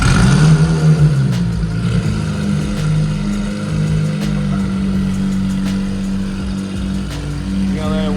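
A McLaren 720S sports car engine running loud and close, revving and settling into a deep, rough idle with surging throttle blips, while people talk nearby.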